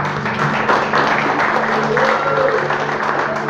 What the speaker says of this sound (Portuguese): pedir que você dê uma salva de palmas para o nome de Jesus